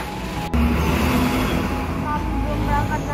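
Traffic sits jammed for about 10 km on the Betung–Palembang road: a low, continuous engine and road hum, heard close from inside a vehicle, with a brief knock near the start.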